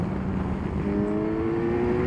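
First-generation Suzuki Hayabusa motorcycle with Yoshimura exhaust, a loud, close engine drone with a rising tonal whine as it revs up steadily, with no talk over it.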